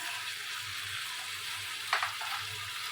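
Okra goes into a shrimp masala frying in oil, a steady close sizzle that jumps into a brief louder spatter as the okra drops in, then settles back to an even hiss.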